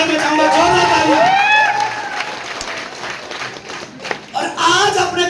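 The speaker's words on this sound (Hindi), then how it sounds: "मैं चाहूंगा जोरदार तालियां।" Applause greets a grand entrance by car at a stage show in India, loud and crowd-wide under a host's speech and excited cheering, dipping midway then swelling again near the end.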